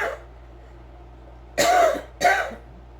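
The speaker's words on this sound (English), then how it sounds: "that cough" Two short, harsh coughs break a quiet room, the first lasting a bit longer and the second following about half a second later, both close and fairly loud against faint background hum.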